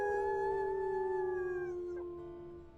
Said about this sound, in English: I'll go ahead and join the howl.